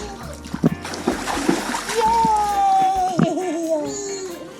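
A baby kicks and splashes in swimming pool water, with irregular close splashes under an adult's rhythmic coaching voice and a child's babble and squeal.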